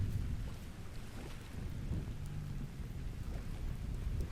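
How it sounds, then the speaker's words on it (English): Steady rain falls in the survival video game Vintage Story, a continuous broadband wash of downpour with low rumbling underneath, no talking over it. "We need to have this covered because it's raining right now."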